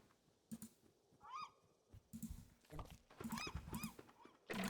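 Seagulls calling in the video game Don't Starve, a few short squawking cries among soft thumps and footstep-like clatter, faint and intermittent.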